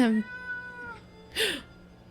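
Cat yowling and screeching from inside a bag in the video game 60 Seconds, a loud drawn-out meow followed by a sharp, shrill screech after a short pause.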